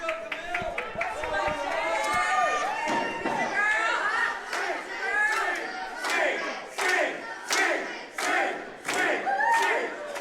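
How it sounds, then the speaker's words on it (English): A wrestling crowd roars and chants, urging the wrestler Shaloncé to sing, with loud rhythmic bursts of shouting that swell and pulse throughout, close and energetic. "This crowd encouraging Shaloncé to sing."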